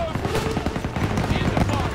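Rapid bursts of gunfire in Call of Duty WWII combat, a busy clatter of machine gun and rifle shots close and loud, mixed with shouted voices and battlefield din.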